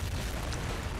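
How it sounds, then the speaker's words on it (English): Mortar shells bursting in a Blitzkrieg mod strategy battle, a dense, continuous low rumble of overlapping blasts with crackling debris across the whole moment. "Here my mortar is killing his rifleman squad."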